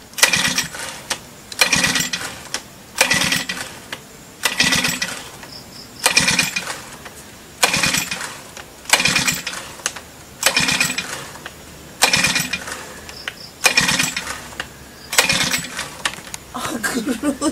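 A lawn mower engine is pulled over repeatedly without starting, about a dozen evenly spaced recoil-start rasps, each a brief sputter that dies away, close and loud, with a little talk between pulls.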